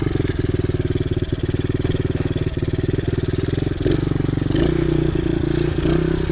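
A pit bike's small single-cylinder engine runs steadily off the throttle on a trail with logs, its fast, even idle thrum close and loud, and the pitch shifts slightly near the end.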